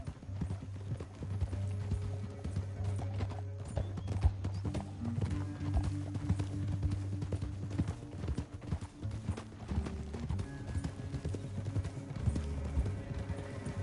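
Horse hooves clip-clop in a steady rhythm across the clip in Red Dead Redemption 2, joined by a whinny and some background game sounds, with no talking.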